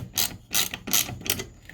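A hand tool ratchets as it tightens a bolt on a Craftsman LT1000 lawn tractor, four short, quiet bursts of clicking spaced about a third of a second apart, close up and alone.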